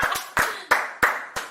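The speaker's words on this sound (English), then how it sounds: "Josh, can we get some clapping there please?" Five separate bursts of hand clapping from a small studio audience, evenly spaced and fairly close, each sharp onset fading quickly before the next.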